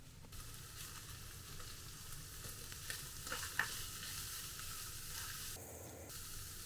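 Ground pork frying with freshly added chopped onion in a pan: a steady close sizzle with scraping stirs and a few sharp utensil clicks, no talking.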